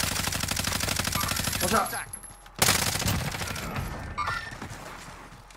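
Rapid automatic gunfire rattles loudly in Call of Duty Warzone, a dense burst cutting off abruptly, then a second heavy volley with scattered shots, while a player calls out over it.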